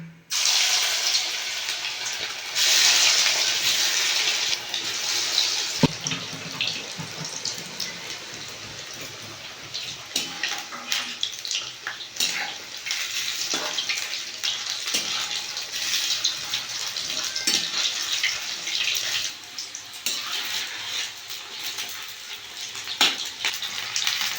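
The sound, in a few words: soya chunks frying in hot oil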